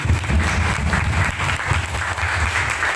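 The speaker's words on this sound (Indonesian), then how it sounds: "Kita beri aplaus juga untuk Pak Dedi." Steady applause from a school audience at a legal-awareness outreach event, continuous clapping throughout at a fairly loud, even level.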